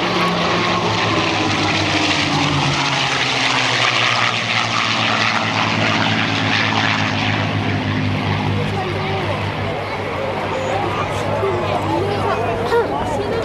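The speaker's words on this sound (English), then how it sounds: "Let's listen to the sound of the Berlin." Rolls-Royce-designed Merlin engine of a P-51 Mustang fighter in flight at an airshow, a steady loud propeller drone with layered harmonics that holds throughout, fading slightly toward the end, with a voice speaking over it.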